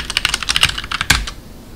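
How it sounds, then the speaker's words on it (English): Rapid keystrokes on a computer keyboard while entering a password at a Ubuntu login on a homelab server, a quick burst of clicks followed by a louder key press like Enter, close and alone without talk. "I typed my password wrong."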